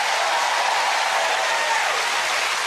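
A TV game-show studio audience on Family Fortunes gives a big round of applause for the Bond family, a dense, steady wash of clapping that fills the whole moment without a break.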